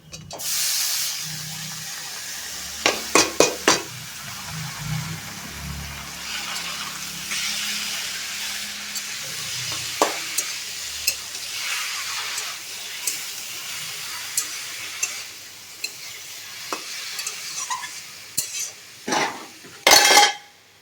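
Ash gourd being stirred into a frying spice masala in a pan, with a steady hiss of sizzling oil, scattered metallic clinks of a spoon against the pot, and a few sharper scraping knocks near the end.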